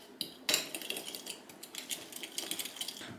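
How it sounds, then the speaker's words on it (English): Spoon stirring white sugar in a small bowl for single-serving chocolate chip cookie dough, giving quiet clinking and scraping taps of metal against the bowl in an irregular rhythm, close and faint, with no talking. "Little stir."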